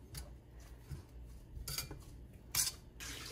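Bread burfi ingredients with sugar and cream are stirred in a dish, producing faint, irregular clinks and scrapes of a spoon against the bowl in a quiet kitchen.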